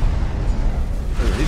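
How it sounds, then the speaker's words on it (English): A Penance Cruiser starship blowing up in the X4 Star Wars mod, a steady rumbling roar of destruction with a swelling, whooshing rise near the end, loud and continuous. "That's the Penance right there blowing up."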